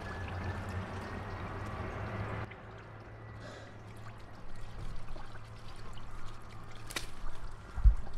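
Engine oil drains from a BMW X5M/X6M in a steady pouring trickle, close and moderately loud, then fading to a quieter dribble with faint background noise.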